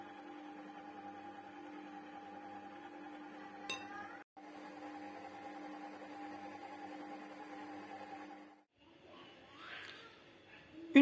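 An electric mixer runs at low speed, mixing sifted flour and baking powder into cake batter. It gives a steady, faint mechanical whir with a brief break and a clink partway through, then stops near the end.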